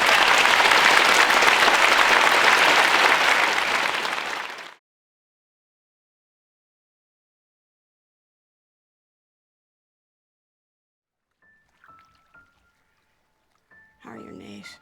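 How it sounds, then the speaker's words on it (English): Audience applause at a film industry symposium opening panel, a dense burst of many hands clapping for about five seconds that stops abruptly, followed by long silence and a few faint clicks and tones near the end. "Can we give a round of applause?"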